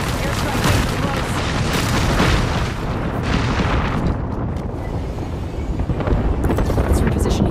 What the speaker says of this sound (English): Heads down, airstrike is close.